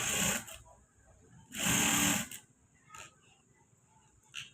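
A sewing machine stitches a blouse in two short whirring bursts, close and clear, followed by a few brief faint stitching taps, with no voices.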